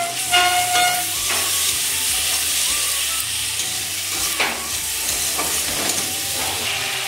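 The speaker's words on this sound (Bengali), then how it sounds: "এখন দিয়ে দিচ্ছি আদা রসুন বাটা" Ginger-garlic paste sizzles and spatters in a hot frying pan for an egg curry, a steady loud hiss with stirring scrapes throughout and no voices.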